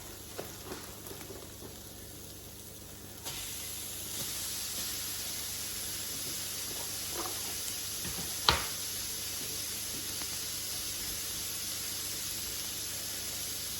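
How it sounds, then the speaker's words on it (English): Ground meat for a Mexican taco bowl frying in a pan, a continuous hiss and sizzle that intensifies after a few seconds, with faint scraping from stirring and one sharp clack from a utensil. "So you're going to cook your meat now until it's brown. So you're just going to be stirring it around."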